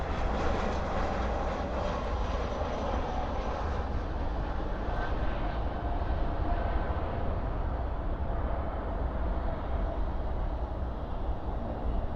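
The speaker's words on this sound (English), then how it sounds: "Spoilers up, reversers out on this A319 here." An Airbus A319 rolls out after landing at Dallas/Fort Worth airport with spoilers up and thrust reversers deployed, a broad steady roar heard from a distance, slowly easing off, with no talk.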